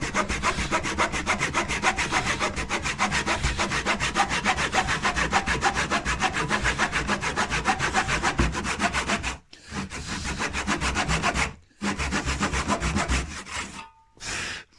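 A hand saw rasps through wood in quick, steady back-and-forth strokes while cutting a sash window weight door, close and loud, pausing briefly a few times near the end.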